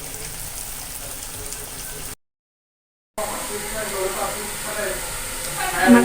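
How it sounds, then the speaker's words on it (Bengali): Beef jhuri being dry-fried in a pan until dark and crisp over low heat, a steady close sizzle and crackle that breaks off for about a second, then comes back louder with small pops near the end. "আমার কালকের এই মাংসের ঝুড়িটা আজকে ভাজা ভাজা করতে করতে একদম কালো ভুনার মতো কালো হয়ে আসছে।"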